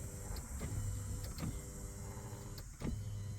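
A power seat motor in a Nissan 350z whirs steadily as the seat travels back and forth, with a few brief clicks and a change in pitch as the direction reverses, faint and close.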